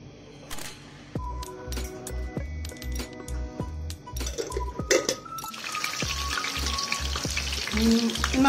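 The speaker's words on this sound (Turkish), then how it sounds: "Patlıcanlarımı da hafif kızartacağım." Eggplant frying in hot oil, a steady crackling sizzle that builds and grows louder over the clip, with clicks and clatter of cooking nearby.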